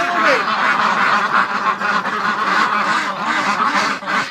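Ducks and geese crowd a backyard duck pen, and a dense, loud chorus of quacking and honking carries on nonstop at close range.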